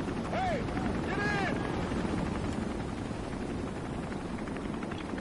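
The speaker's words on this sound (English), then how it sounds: "You want me to just jump into a moving helicopter?" A helicopter hovers nearby in the video game Resident Evil 3, giving a steady rotor roar with a few short chirping sounds at the start. The noise holds at a moderate level and never stops.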